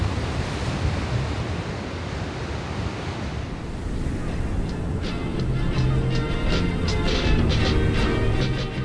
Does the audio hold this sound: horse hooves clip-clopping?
no